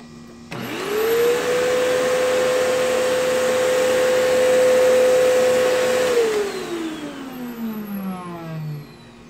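An old vacuum cleaner motor switches on, winds up to a loud, steady whine and holds for several seconds. It then spins down with a falling pitch. The motor sounds rough, heard up close, with no talking.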